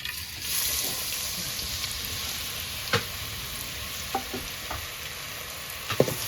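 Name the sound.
onions frying in hot oil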